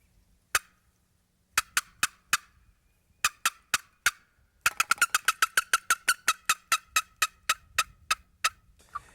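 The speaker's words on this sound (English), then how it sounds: "this call is used for cutting and for fly downs" A boat paddle turkey call produces sharp, rapid yelps and clucks, starting with scattered single notes and building into a fast, excited run of cutting and fly-down calls, loud and close with no talk.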